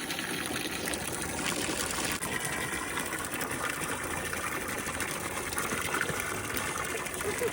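Water gushes steadily from a garden hose for a goat outdoors, a continuous broadband rush that fills the whole stretch without pause.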